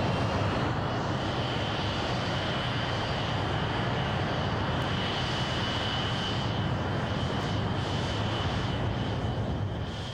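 The jet-powered Thrust SSC land speed record car starting its run, a loud, unbroken jet engine roar with a high whine that stays steady throughout.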